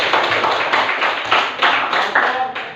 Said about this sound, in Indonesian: Oke, tepuk tangan untuk kelompok 2 ya.